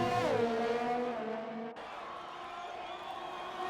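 Race cars in an endurance race at Austria, an engine note climbing and shifting as cars run through a fast right-hander during an overtake around the outside, steady and mid-distance with a sharp change in tone partway.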